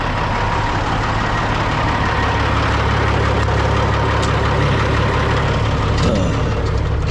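A semi truck engine idles loud and close while its air system builds pressure, a constant deep diesel rumble with a faint hiss and small clicks layered on top.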